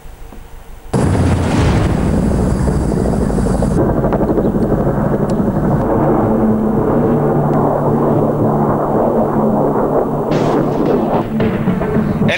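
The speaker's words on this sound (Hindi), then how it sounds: "अपाचे अटैक हेलीकॉप्टर्स भी लगातार फ्लाइंग कर रहे हैं।" Apache attack helicopters fly near the Line of Actual Control in Ladakh, with loud, continuous rotor and turbine roar that starts suddenly and fills the whole stretch at close range.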